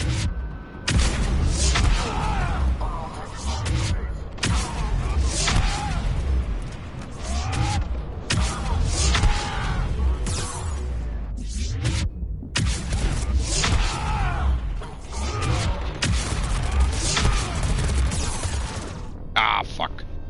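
Gunfire from turrets in Mass Effect 3 Legendary Edition rattles almost nonstop in dense, loud bursts with booming impacts, broken by a couple of brief pauses, while a player talks over the combat.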